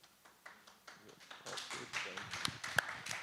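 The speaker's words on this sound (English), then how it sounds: "I can only add to that applause" Audience applause at a panel talk on artists and repression, starting as a few scattered claps and swelling into steady, fairly close clapping that builds toward the end.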